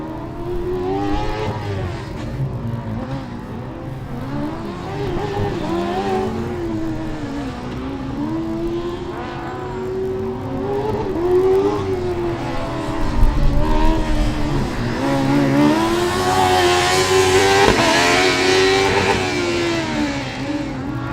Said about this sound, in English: So it looks like it's going to be a fast lap for car number 94 from Esslingen.